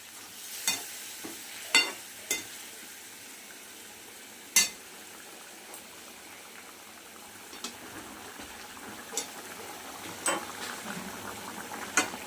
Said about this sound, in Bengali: দিয়ে এইবার আমি কষাতে লাগবো।